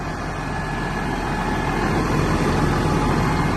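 A Massey Ferguson 7622 tractor's 220-horsepower diesel engine idles steadily and loudly, a deep continuous rumble with no pauses and no voices.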